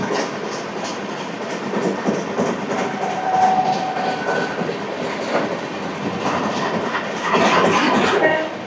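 Samata Super Fast Express train running on rails with a WAG-5 locomotive, a steady rumbling roll with clickety-clack wheel beats and brief squeals, close by and fairly constant, with no clear talk.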